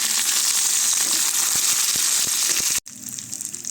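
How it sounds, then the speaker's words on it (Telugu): Curry leaves with dried red chillies crackle and sizzle loudly in hot oil for tempering lemon rice. The broadband hiss runs steadily for almost three seconds, cuts out sharply, then resumes a little quieter. "కరివేపాకు వేసుకోవాలండి, కొద్దిగా వేగాలండి."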